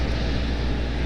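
An Airbus A300 airliner at Raleigh-Durham International Airport produces a steady low engine rumble and roar, continuous and even throughout the short stretch, heard from a distance at an airport spotting position, with no voices.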